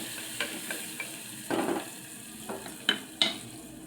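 Onions stirred in hot oil with asafoetida for masala khichdi, giving faint, close scraping strokes at irregular intervals over a low, steady frying sizzle, with no voices.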